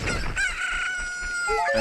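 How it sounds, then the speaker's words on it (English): A rooster crows in the video game Zelda Master Quest 3D, a loud, drawn-out cock-a-doodle-doo with rising and falling tonal calls over game background sound. "No, chicken, get out of the way!"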